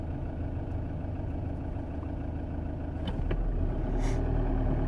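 A car idles in traffic, giving a steady low engine rumble at moderate level with faint passing road noise and a couple of small clicks, and no one speaks.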